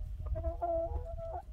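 A hen with a bare, featherless back clucks close by in a string of short, tonal calls. The calls run continuously over a low rumbling background.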